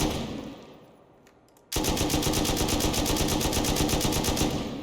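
An M249 light machine gun in the game Rust fires a long, rapid, unbroken burst, loud and close, after a brief quiet lead-in.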